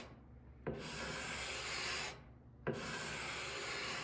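Two long strokes of a card scraper across a wooden surface, each a close, dry, hissing rasp that starts with a sharp catch. A short quiet gap separates them.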